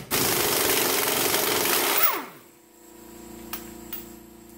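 An impact wrench spins off a 19 mm nut on an outer tie rod end, giving a loud sustained rattling whir for about two seconds, then dropping away to quiet workshop ambience with a couple of faint clicks.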